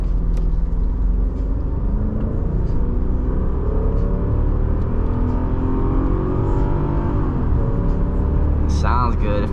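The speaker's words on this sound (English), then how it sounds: "But you can hear that engine. The V8 sounds good." A 2005 Mercedes S430 (W220) with a V8 engine accelerating, heard from inside as a steady, loud low rumble with rising engine tones and road noise, a voice talking over it.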